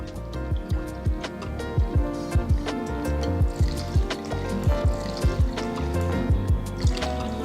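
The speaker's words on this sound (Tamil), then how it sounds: "இப்போ இந்த கப்பில் நான் வந்து 6 கப் அளவுக்கு தண்ணி சேர்க்க போகிறேன்." Water poured from a cup into a pressure cooker holding rice and dal, six cupfuls in all, making a steady run of close, rhythmic glugs and splashes with no talking.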